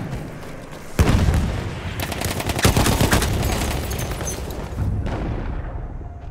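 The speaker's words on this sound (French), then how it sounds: "Une grenade pour eux." A heavy boom bursts out in a video game firefight, with dense rumbling gunfire and crackling rolling on after it and a second, smaller impact near the end, loud and close.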